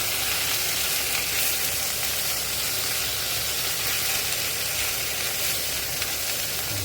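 Chicken with light soy sauce sizzles and fries steadily in a pan while being stirred, a loud continuous hiss with faint scraping, close by and without voices.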